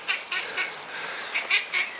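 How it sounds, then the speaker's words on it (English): Ducks in the town of Thirsk, North Yorkshire, give a handful of short, nasal honking quacks, some doubled, at a moderate distance over a soft outdoor hiss, with no talking. "Some ducks there enjoying Thirsk."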